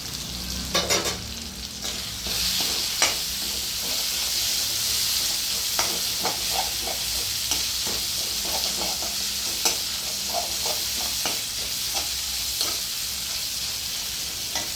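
Ginger pickle sautéing in oil with mustard-fenugreek powder, a loud steady frying sizzle with repeated scraping and clicking stirs of a spoon against the pan.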